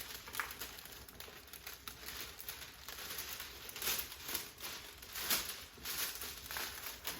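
Quiet crinkling and rustling of a plastic heat-shrink film bag being handled during freezer-meal packing, with irregular soft crackles and a few louder crumples throughout.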